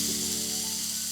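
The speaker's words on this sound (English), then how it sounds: "Now we're gonna put these in. It's smoking. Hear that sizzle?" Pieces of chicken souvlaki hit a smoking-hot pan indoors and sizzle at once, a short, steady, close frying hiss with no talking.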